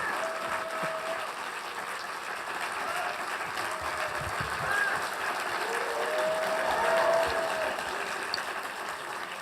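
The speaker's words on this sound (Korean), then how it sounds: "큰 박수로 우리 환호하고 우리 목사님 모시도록 하겠습니다." Church congregation applauding, a steady sustained wash of clapping and cheering across the whole span, fairly loud and without pause.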